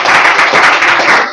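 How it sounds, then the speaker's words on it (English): Audience applause at an English academy class, a short loud burst of close clapping from a group with dense rapid claps, cut off abruptly at the end. "please give a huge round of applause for"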